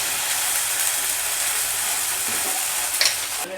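A flipped tiffin snack sizzles in a pan, a steady close frying hiss with a brief clatter of utensil contact near the end and no speech.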